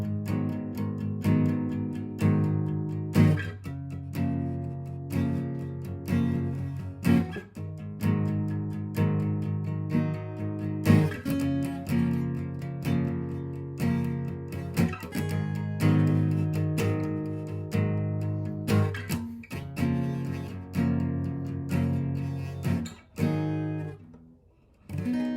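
Barre chords on a guitar strummed with all-downward strokes, ringing out in a steady, full rhythm for about twenty-five seconds with no talking, part of a lesson on a song.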